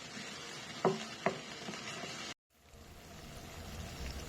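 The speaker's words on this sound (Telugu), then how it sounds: "పచ్చి వాసన పోయే వరకు కొంచెం నూనెలో ఫ్రై చేయాలి" Tomato purée fries in a little oil in a pan for a mushroom gravy curry. A soft, low sizzle comes with two brief stirring scrapes, then a sudden cut to near silence before a faint sizzle returns.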